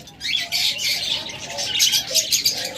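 A large, very active pair of Japanese double-flower pet birds, the hen heavy with eggs, squawking and chirping in repeated sharp bursts close by, with brief fluttering among the calls.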